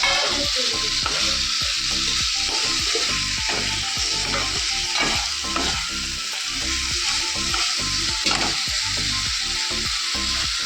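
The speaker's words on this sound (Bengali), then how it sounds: "চুনো মাছটা একটু বেগুন দিয়ে করছি রান্না একটু বেগুন দিয়েছি বেগুন দিয়ে আদা জিরে বাটা দিয়ে করবো" Small fish fry with eggplant and ginger-cumin paste in a pan, giving a loud, continuous close-up sizzle. Repeated knocks and scrapes from stirring run through it, with no talking.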